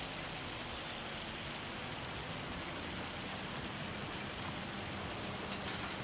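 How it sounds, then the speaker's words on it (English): A hailstorm in the farming video game Farming Simulator 25 pours down as a steady, dense patter of ice on surfaces, constant and moderately quiet with no voices. "I cannot believe it's been hailing for 2 hours in game."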